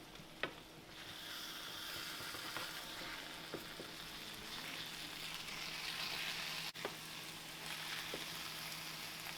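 Eggs sizzling steadily in a pan for over-easy cooking, with a few sharp clicks and scrapes as they are flipped, the frying hiss continuous and close throughout.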